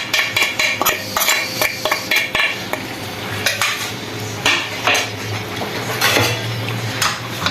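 Masala being stirred in a karahi pan for koila karahi: a spoon scrapes and clanks against the metal in an irregular, busy rhythm, close and fairly loud, over a low background hum.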